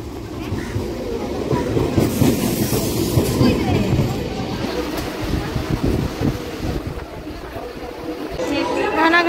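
A passenger train runs toward Ranaghat, a continuous rumbling roll of carriages with wind buffeting the microphone, under nearby chatter and voices.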